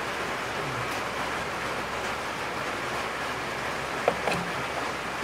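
Heavy rain pours outside a workshop, a steady broadband hiss filling the space with no breaks, with a couple of faint knocks near the end.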